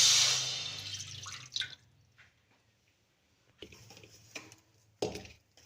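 A glass of water is poured onto roasted wheat flour (atta) in a pan while making halwa. A loud splash and sizzle comes first and fades, followed by a few shorter wet bursts.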